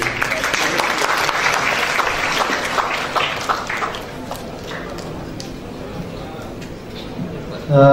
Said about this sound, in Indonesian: Beri tepuk tangan kepada Dr.